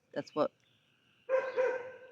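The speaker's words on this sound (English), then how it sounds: "They're actually my neighbor's dogs." Neighboring dogs bark outdoors in a garden during spring: two sharp close barks, a pause, then a longer harmonic bark or howl-like call.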